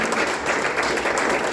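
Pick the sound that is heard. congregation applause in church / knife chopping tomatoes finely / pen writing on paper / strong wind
congregation applause in church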